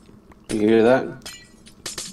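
Glass shatters and clinks in the Minecraft video game, with sharp brittle crashes and tinkles. A voice talks over the start of the sound.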